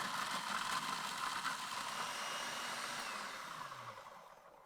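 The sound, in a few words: food processor grinding cocoa biscuits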